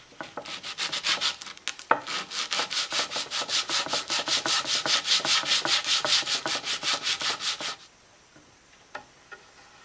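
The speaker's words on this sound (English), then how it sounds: "And so I did a little sanding." A patch of reclaimed wood is hand-sanded in fast, rhythmic back-and-forth strokes, loud and close, before stopping abruptly into near quiet with a few light taps.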